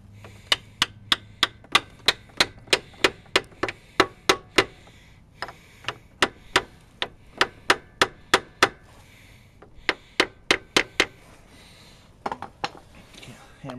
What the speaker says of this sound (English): Now I gotta grab a hammer and lightly tap that on.